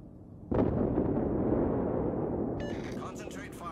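A heavy naval gun salvo from a Royal Navy Nelson-class battleship in World of Warships, one loud boom with a long rumbling decay, then faint voice chatter.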